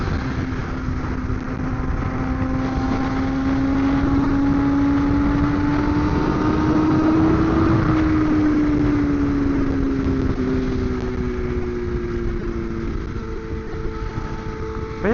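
A BMW S1000RR sport motorcycle is ridden on the road, its engine droning steadily and rising then easing in pitch, with heavy rushing wind across the microphone throughout.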